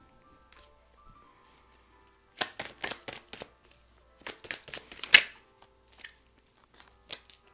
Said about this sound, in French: Je vais finir de tirer les cartes